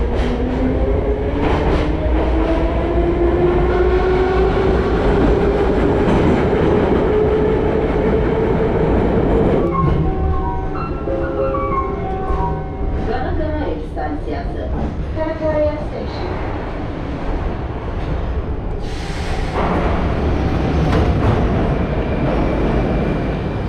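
A metro train rumbles and clatters through a station in Baku, with a rising whine of acceleration, screeching wheel tones and a loud, continuous rail roar throughout, plus brief voices.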